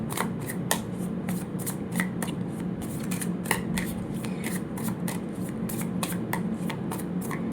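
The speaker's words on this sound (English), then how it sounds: "Let me get some more oracle cards to see" Oracle cards being shuffled during a tarot reading, a steady rapid riffling and rubbing of card stock that runs continuously at close range over faint low background noise, with no voices.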